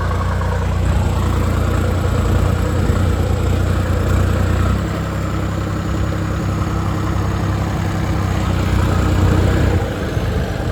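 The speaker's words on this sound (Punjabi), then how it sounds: "ਇੱਧਰ ਟਰੈਕਟਰ ਭਜਾ ਫਿਰਦਾ" A tractor engine runs steadily in a potato field, a continuous low idling rumble with even vibration throughout, close and loud with no speech.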